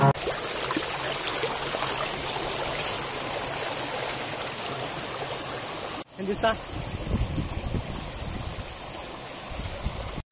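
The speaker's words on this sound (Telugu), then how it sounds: "ఇక్కడ నుంచే వాటర్ అన్నీ వెళ్తూ ఉంటాయి" Water rushes steadily through a breached channel between farm fields near a check dam: a continuous, loud broadband flow that briefly drops out around the sixth second, then resumes with some faint voices.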